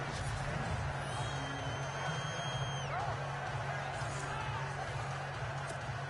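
Stadium crowd noise in the NFL 18 video game, a continuous broad roar of fans at a steady level with a faint whistling tone sweeping through the middle.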